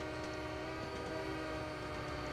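Train horn in Train Simulator 2020, a sustained, harmonically rich blast that holds a steady pitch over a low rumbling background of rail noise, loud and unbroken for its whole short length.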